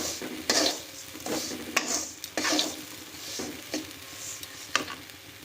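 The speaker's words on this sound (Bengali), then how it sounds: "নুনটাকে এইভাবে অনবরত নাড়াচাড়া করতে করতে দেখো নুনটার কালার অনেকটা চেঞ্জ হয়ে গেছে।" Hot salt scraped and stirred continuously in a pan with a utensil, a steady stream of gritty rasping sweeps and occasional metallic clinks, close and fairly quiet, with no talking.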